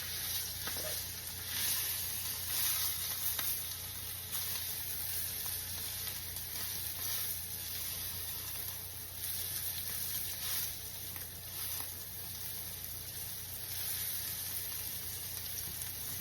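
A steak sears in a pan with olive oil as the second side cooks. A loud, continuous sizzle and crackle holds steady throughout, with no talk over it.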